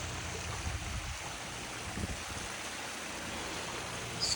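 A backyard waterfall beside paver work and a Baja shelf runs steadily, giving a constant wash of splashing water that stays even and moderately close throughout.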